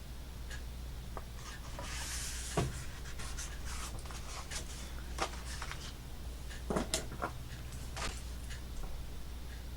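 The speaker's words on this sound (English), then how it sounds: "So let's cut this in half." Scissors cutting a paper card page in half for a craft backing sheet, heard as faint, intermittent snips and scraping rubs over a steady low hum, with no talking.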